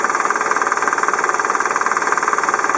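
Isuzu Elf two-ton aluminum-van truck with a 4.3-liter, 122-horsepower non-turbo diesel idling up close, a loud, steady, fast rhythmic clatter and knock that holds an even beat.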